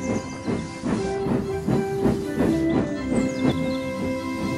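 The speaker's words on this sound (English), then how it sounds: "Gordon's safety valve has burst." Steam hisses steadily from Gordon's burst safety valve on a steam engine standing short of a station platform, a broad continuous rush with faint tonal whines running through it, filling the clip without any talk.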